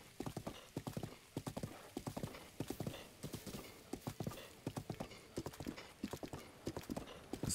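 Steady rhythmic clip-clop of a horse's hooves while riding in Zelda: Breath of the Wild, a continuous trotting beat with clear, evenly spaced hoof strikes and no talk.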